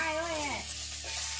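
Fish frying in hot oil in a home kitchen, a continuous close sizzle with a brief stirring scrape partway through.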